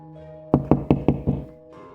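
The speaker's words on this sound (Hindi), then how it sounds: "मैंने दरवाज़ा खटखटाया।" Five evenly spaced, hollow knocks strike an old wooden door at close range, each a sharp thud with a quick decay, followed by quiet.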